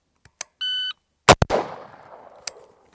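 A steady electronic shot-timer beep sounds, then two sharp gunshots crack in quick succession with a reverberant tail during a target transition drill, followed by a fainter later shot.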